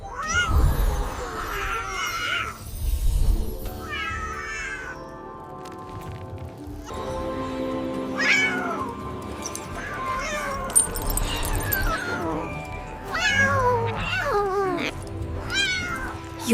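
A cat meows repeatedly in varied, drawn-out calls with short gaps between them, close and fairly loud over a quiet background.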